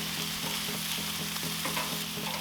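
Chicken wings sizzle on a Char-Broil Performance Series gas grill with a steady, close crackling hiss and a faint regular low pulsing underneath, and nobody speaks.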